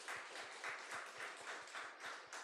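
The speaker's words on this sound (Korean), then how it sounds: "박수 한번 치겠습니다." A church congregation applauds a departing elder during a worship service, a steady rhythmic round of clapping in even beats, moderately distant and unaccompanied by speech.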